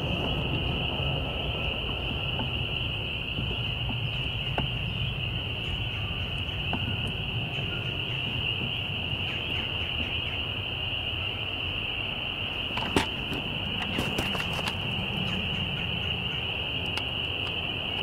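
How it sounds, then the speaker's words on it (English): Tree frogs call outdoors in a steady, continuous high trilling chorus that fills the whole stretch, with faint distant background noise and a brief sharp click near the end. "Okay, listen for the tree frogs."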